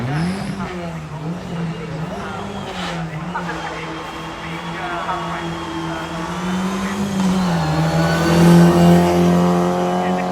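Skoda Felicia rally car at Rallye Prescott, engine revving and accelerating with rising and falling pitch as it climbs through gears, growing louder toward the end, heard under steady commentary.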